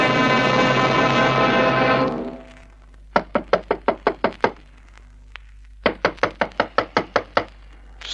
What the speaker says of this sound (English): Somebody rapping on the door.